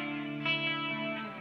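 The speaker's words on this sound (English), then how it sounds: "you can eliminate some of that hiss just by changing the way that your input's going in" Steady tape hiss from a T-Rex Binson Echorec echo unit sits under a sustained tonal drone, fairly quiet and constant with slight swells.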